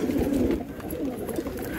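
Sarang puri pigeons coo in low, soft, rolling calls close by, a few repeated phrases over a steady background murmur.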